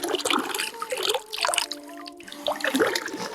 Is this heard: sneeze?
no